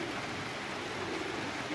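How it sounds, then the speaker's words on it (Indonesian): Steady rain pours down at a rooftop pigeon loft during the first rain of the season, a dense, even hiss with no pauses. "Memang suasana hujan"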